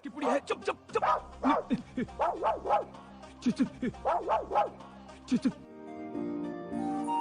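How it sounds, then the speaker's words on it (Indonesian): A dog barks repeatedly in a steady series of sharp, fairly close barks with small yips, followed by a softer whimpering tail and some background sound. "anjing milik Gotham sempat menggonggong melihat Nanda"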